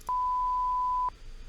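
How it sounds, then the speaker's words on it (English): A single electronic beep from a gun pickup in an Unreal Engine game demo holds one steady pure tone for about a second, clean and alone against near silence. "beware of the beeping sound."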